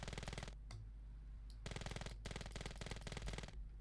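Rapid bursts of pistol fire in the video game Ravenfield, sharp shots in quick rhythmic strings with brief pauses between volleys, loud and close over a low steady game background.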